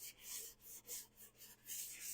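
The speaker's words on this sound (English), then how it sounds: "Just going to go over it real quick with the sanding sponge." A sanding sponge rubs quickly over a wooden surface with adhesive residue, giving soft, faint rasping strokes in a quick back-and-forth rhythm.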